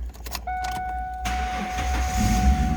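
A 1998 Ford Mustang convertible cranks briefly and its engine catches, settling into a steady close idle while a sustained electronic chime sounds from the dash.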